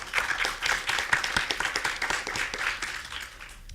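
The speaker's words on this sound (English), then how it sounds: "Can we have a round of applause?" A short round of applause from the audience at the 2017 St. Francis College Entrepreneur Pitch Contest, many hands clapping fairly loudly at first and then thinning and fading over a few seconds.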